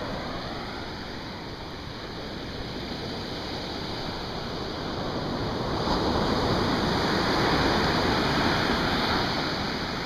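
Ocean surf rolls onto a beach on the Outer Banks, a steady broad wash of breaking waves that swells slightly louder partway through, with no voices.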